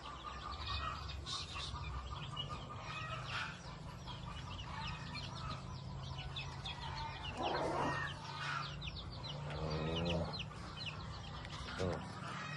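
Native chickens and newly hatched chicks on the ground, with steady soft clucking, peeping and scattered calls in a farmyard, while a person talks throughout.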